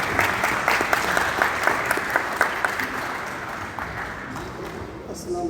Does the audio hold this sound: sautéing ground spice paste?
no